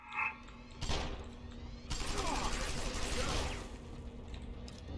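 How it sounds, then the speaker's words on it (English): Enemy gunfire in Deus Ex: Human Revolution hits in a dense, sustained burst of rapid shots after a couple of sharp impacts, loud and close, with someone talking over the game sounds. "He's shooting me way too fast"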